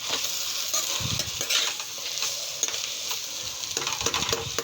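Bitter gourd sizzling in a pan as a utensil stirs and scrapes it, with a continuous fry hiss and irregular clinks and scrapes close by.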